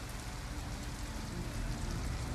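Steady rain pours down in a dense, even hiss in the video game Detroit: Become Human, with no gaps or voices over it.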